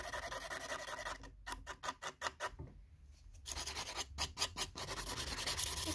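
Light filing of an acrylic nail tip with the 180-grit side of a nail file, a soft raspy rubbing in quick short strokes that pause briefly midway, close and fairly quiet.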